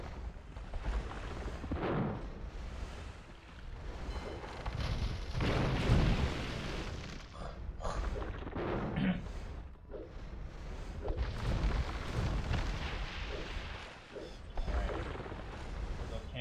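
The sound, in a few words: cannon galleons firing to blow up a wonder, Age of Empires II video game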